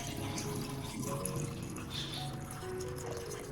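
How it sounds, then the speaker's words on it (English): Baking soda solution pours over orchid roots and the lower stem in a container, a soft steady trickle with faint splashing and bubbling, quiet and close, with no talk. "I will pour the prepared baking soda solution to completely submerge the roots and lower part of the orchid stem."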